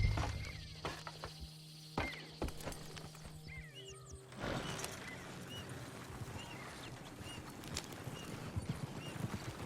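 Horse hooves clip-clop in Red Dead Redemption 2, faint irregular steps under an outdoor ambience, with occasional soft clicks and a brief horse sound.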